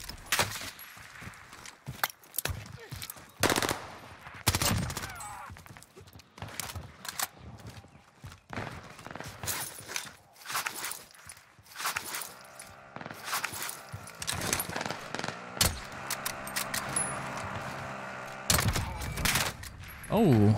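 Gunfire in Warzone, a video game, comes as sharp, loud bursts of rapid shots scattered through the clip, with gaps between volleys and someone talking over parts of it.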